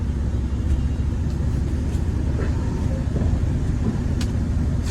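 A truck engine with a stuttering fault runs under throttle, a close, continuous low rumble that holds fairly even with no clear pauses.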